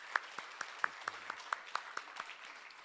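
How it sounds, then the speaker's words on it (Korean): Applause from a church congregation thanking God at the close of a worship service, heard as a steady run of about a dozen distinct, evenly spaced claps, moderately faint with a slightly roomy feel and no talking. "주님께서 이 모든 일을 통하여 영광 받아 주실 줄 믿고 주님께도 감사의 박수 한번"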